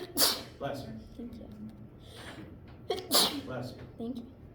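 Two sneezes in a lecture hall, each a sharp loud burst about three seconds apart, with murmured voices between and after them.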